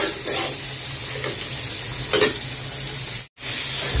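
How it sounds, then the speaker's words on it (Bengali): Sea fish lightly frying in a pan, a continuous bright sizzle with brief bursts of spatter and stirring, no talk. "মাছটা বেশি ভাজবো না, একটু হালকা একটু ভাজা দিলাম, যেহেতু সামুদ্রিক মাছ"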